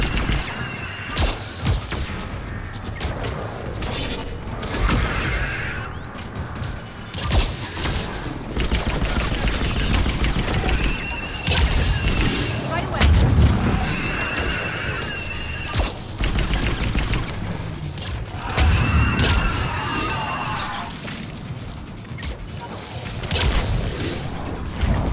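Heavy weapons fire during a battle in Mass Effect 3 Legendary Edition, repeated volleys of shots and booms mixed with mechanical clanks, continuous and loud across the whole stretch.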